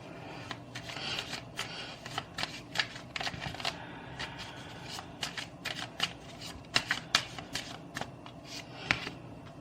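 Tarot cards shuffled by hand in a steady run of crisp riffling slaps and flutters, close and fairly quiet, with no talking.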